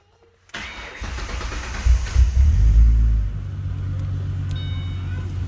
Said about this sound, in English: So we're going to go ahead and start the car.